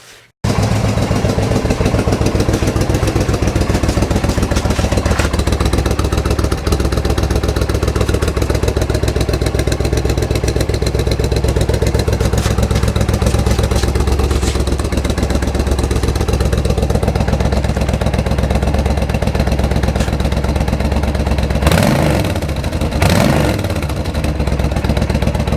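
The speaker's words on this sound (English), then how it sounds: "I'm going to do a quick startup of the bike here" A motorcycle starts up and runs for a long stretch, a loud, close, clattering engine note holding steady at idle, with a couple of sharp throttle blips near the end.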